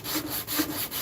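A power sander working over wood, a steady broadband rasping hiss that pulses in regular strokes about every quarter second as it passes back and forth, close and fairly loud, with no voices.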